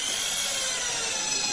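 A power drill bores a hole during shielding work in an X-ray room, giving a steady, close, continuous whirring grind with no talking.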